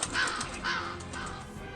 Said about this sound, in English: Where did that crow sound come from?